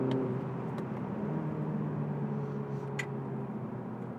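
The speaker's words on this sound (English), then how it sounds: "The engine provides more than enough shove." A 2020 BMW Z4 30i roadster's engine pulls steadily under acceleration, a smooth, continuous droning hum with a faint brief click partway through, heard from inside the car with no talk.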